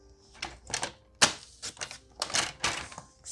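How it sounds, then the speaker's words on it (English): A paper trimmer slices through designer patterned craft paper for a gift card holder, giving a quick run of sharp, close clicks and scraping strokes with short gaps between them. "I'm going to pull it through to my paper trimmer on the other side"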